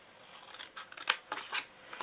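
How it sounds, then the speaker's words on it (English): Scissors snip through a cardboard box being cut down to make flaps for a homemade Christmas gift box, a few sharp crisp cuts close by, with no talking. "we are cutting this end off here"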